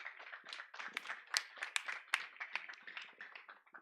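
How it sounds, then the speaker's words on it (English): Audience applause for a minister at an agricultural innovations exhibition in Uganda, dense irregular clapping from a crowd, fairly faint and distant, lasting a few seconds with no speech over it. "Another round of applause for our Honorable Minister."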